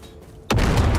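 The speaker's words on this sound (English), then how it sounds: "Introduce ourselves with a grenade." A grenade bursts in Dune Awakening, a sudden loud boom halfway through that rolls into a sustained rumbling blast over a quiet background.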